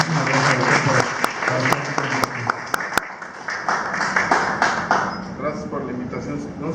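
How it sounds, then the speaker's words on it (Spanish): An audience at a talk on eating disorders breaks into applause for a doctor. The clapping is loud and dense and is dotted with sharp pings, then it thins out while a voice begins speaking over it. "les pido un fuerte aplauso"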